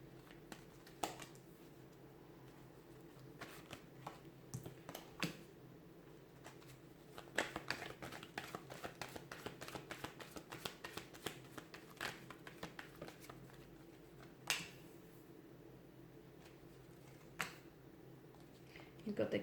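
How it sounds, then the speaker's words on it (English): A deck of tarot cards is shuffled in a quiet room, giving soft repeated riffling and flicking with quick clusters of crisp taps that grow busier toward the middle, fairly close and low in level. "let's give the cards a shuffle"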